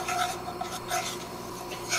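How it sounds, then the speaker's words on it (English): A whisk scrapes steadily around a pan as a roux cooks toward browning, giving a continuous close rasping and rubbing sound on its own. "Now we're just going to keep kind of whisking it around until it browns a bit."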